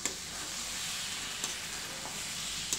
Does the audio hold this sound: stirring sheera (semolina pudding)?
yes